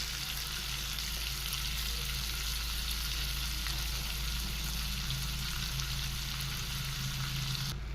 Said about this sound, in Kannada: ಈಗ ಸಾಸಿವೆ ಸೇರಿಸ್ತಾ ಇದ್ದೀನಿ